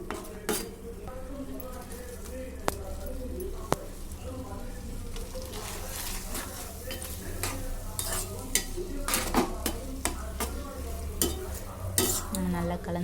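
A spoon stirs pasta through thickened milk in a pan, soft scraping and occasional metallic clinks against the pan over a low bubbling simmer, close and fairly quiet.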